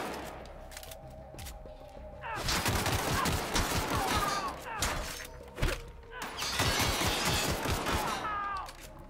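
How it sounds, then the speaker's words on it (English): Bursts of gunfire in The Outer Worlds, two long stretches of rapid close shots with impacts and clatter, separated by a short lull, with no voices over them. "someone was shooting me from behind."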